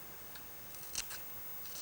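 Sharp craft scissors snipping paper around a bear's ear while cutting out a decoupage card shape, a few quick, faint, close snips in a quiet room.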